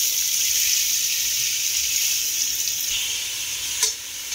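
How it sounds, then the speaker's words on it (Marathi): Hot oil crackles and sizzles steadily as chopped onion is added to a kadhai for pav bhaji, with a brief clink near the end. "आता आपण कढईमध्ये तेल गरम करायला ठेवलेलं आहे। आता आपण कांदा ॲड करणार आहोत त्यामध्ये।"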